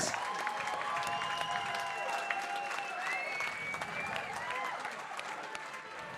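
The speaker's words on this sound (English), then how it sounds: "please put your hands together and give both boxers a round of applause for a great fight" A boxing fight-night crowd applauds after the bout, steady clapping filling the hall with a few whistles rising over it, loud and sustained throughout.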